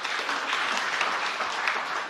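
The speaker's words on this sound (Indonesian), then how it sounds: "Yang mau tepuk tangan yang meriah bagi Tuhan." Church congregation applauding during an Indonesian sermon, a dense, continuous roomful of clapping that stays loud and even for the whole stretch, with no talk over it.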